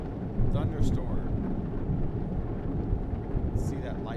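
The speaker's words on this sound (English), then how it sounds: "Hear that thunder rumble?" Low rumbling thunder rolls beneath steady rain and wind in a video game thunderstorm, with a few brief higher sounds over the storm.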